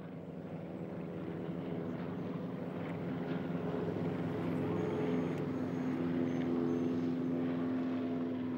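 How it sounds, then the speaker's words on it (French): An SE-5 World War I fighter biplane's propeller engine gives a steady, droning hum with a rising tonal whine that holds at an even moderate level throughout. "Le SE-5 rejoignit au front le Sopwith Triplane."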